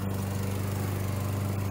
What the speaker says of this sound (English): Hurricane's coming, she's mowing grass.